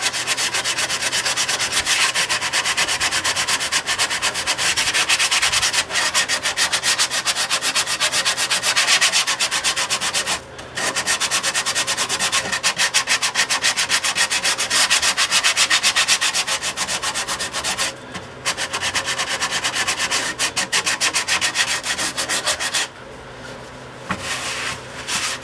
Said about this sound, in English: I just finished sanding this back